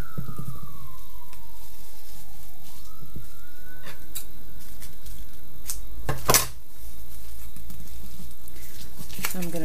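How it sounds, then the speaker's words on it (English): An emergency vehicle siren wails at a distance outdoors, a single falling tone that steps up and fades, followed by scattered knocks and a sharp clatter close by. "Sorry for the sirens."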